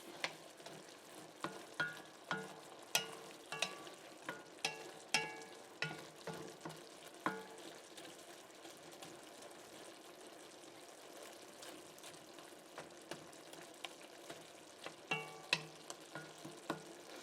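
Teriyaki chicken in an enameled iron pot with the burner off, a faint low sizzle under scattered small pops and clinks recurring irregularly, quiet and close with no voices.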